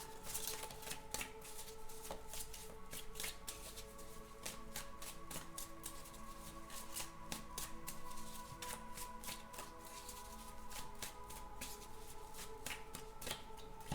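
Rapid, crisp riffling of a deck of cards being shuffled close by, repeated in quick bursts with no talking.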